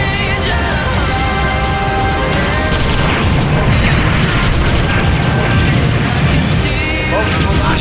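A ship is destroyed in video game combat, a dense, continuous wall of booming explosions and crashing debris layered with mechanical noise and music, loud and sustained throughout.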